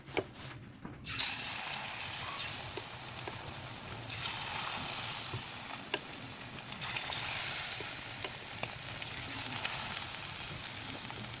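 Onions hit hot cooking oil with a sudden burst of sizzling that settles into a steady, close frying hiss with small pops, continuing alone without talk.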